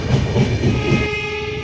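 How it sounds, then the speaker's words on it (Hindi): Railway traffic near New Delhi, between Okhla and Nizamuddin in heavy fog, heard from aboard the 12429 Lucknow–New Delhi AC Superfast as trains pass and one crosses a bridge: a steady, loud rumble and rattle with a sustained tonal whine late, no talk. "एक ट्रेन जा रही है, एक ट्रेन सामने से आ रही है और एक ट्रेन जो है ब्रिज से गुजर रही है"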